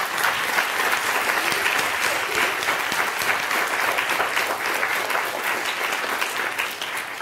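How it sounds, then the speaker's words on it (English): Audience applause for a panel of speakers at the close of an afternoon conference session, steady dense clapping from a crowd filling the whole stretch without a break. "So if we could give a round of applause for all our panelists."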